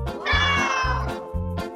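A cat meows in one long, drawn-out call followed by shorter meows, clear and close, over a steady low rhythmic pulse.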